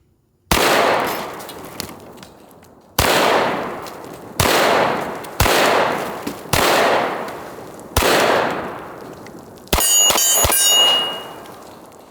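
Kriss Vector .45 ACP rifle shots hit coconut targets outdoors: six loud, sharp reports spaced about one to two seconds apart, each ringing out with a decaying echo, then a clattering metallic burst at the end.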